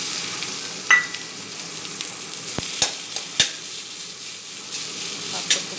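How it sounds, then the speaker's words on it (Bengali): Radish greens fry in a pan with green chili and five-spice, giving a steady broad sizzle broken by a few sharp clicks and scrapes from stirring, close and fairly loud, with no talking. "শাকটা একটু ভাজা ভাজা হচ্ছে।"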